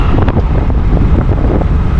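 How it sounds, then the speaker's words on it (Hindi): Cool wind blows steadily on a road in Karachi, a loud, continuous roar buffeting the microphone, with traffic rumbling underneath. "अब ये देखें ठंडी ठंडी हवा चल रही है"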